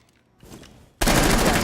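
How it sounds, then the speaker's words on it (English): Loud burst of game gunfire in a tactical shooter match, rounds hammering into a garage: a quieter spell of shots, then from about one second a dense, sustained fusillade of rapid impacts. "all of the bullets start hitting onto the garage"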